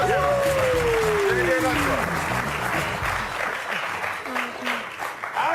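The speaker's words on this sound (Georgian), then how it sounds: "აპლოდისმენტები." A studio audience on a Georgian TV comedy game show applauds a newly introduced contestant; loud, sustained clapping with a voice and tonal sounds over it, easing slightly toward the end.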